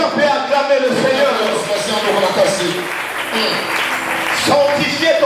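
Worshippers at a Friday church service clap and cheer to acclaim the Lord, a loud sustained applause mixed with shouting voices and music, running continuously with a few stronger swells.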